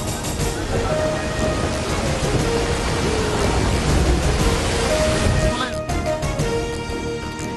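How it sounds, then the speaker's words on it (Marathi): Heavy rain with thunder in Pune makes a loud, steady downpour roar that fills the whole stretch, swelling slightly in the middle, with faint tonal voice-like traces over the rain. "पुण्यात मुसळधार पावसाची हजेरी"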